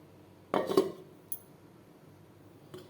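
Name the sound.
covering the pot with a lid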